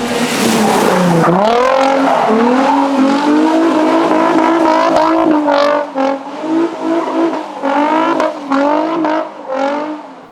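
A Formula Drift competition car's engine revs loudly and repeatedly up and down during a check for hose leaks, with sweeping rises and falls in pitch and brief dips between pulls.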